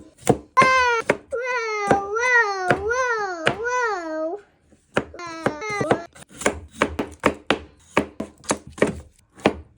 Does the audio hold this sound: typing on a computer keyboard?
no